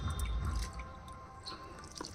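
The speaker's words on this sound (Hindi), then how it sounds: "इस तरह से पानी डाल दें" Water soaks into the soil of a potted hybrid hibiscus after organic fertilizer has been added, making a soft, wet squishing and dripping sound close by, with no voices.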